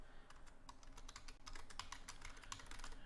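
Rapid keystrokes clatter on a computer keyboard while text is typed into a JavaScript word and character counter, a steady close-up patter of light clicks with no voices.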